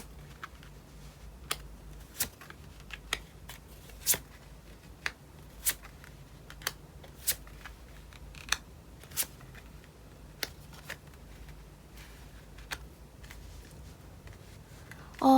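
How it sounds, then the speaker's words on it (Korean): Tarot cards being drawn and laid out one by one in a quiet room, giving a string of soft, sharp card taps and slaps at irregular intervals over low background hiss. "총 8장의 카드 뽑아볼게요."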